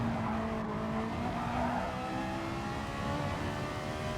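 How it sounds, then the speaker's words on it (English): A Toyota Supra GR3 race car drones at high revs among a line of racing cars at the Red Bull Ring in Gran Turismo Sport. The engine notes are steady and shift in pitch, with tire noise underneath and no voices. "the Supra catching up towards the end of the stroke with the slipstream"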